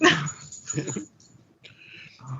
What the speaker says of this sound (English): My dog is going to decide to be very loud.